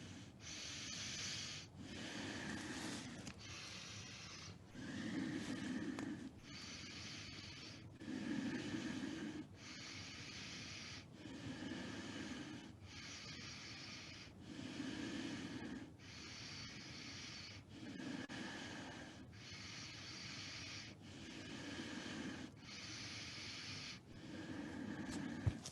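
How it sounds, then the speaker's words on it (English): Slow, steady nasal breathing during a Kundalini yoga heart-opening pose, with roughly a dozen long inhale-exhale cycles in an even rhythm, close and clear, with no talking. "All the breathing through the nose."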